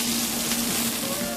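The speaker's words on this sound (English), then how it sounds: "I put my steak in there." Filet mignon steak sears in smoking-hot canola oil in a pan, giving a continuous, moderately loud sizzle with a faint steady hum beneath it.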